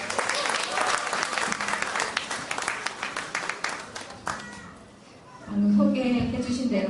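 Audience applause at a band's sixth regular concert: dense, lively clapping for about four seconds, then it thins and fades as a voice begins speaking.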